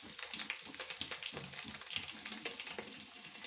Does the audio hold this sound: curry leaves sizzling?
yes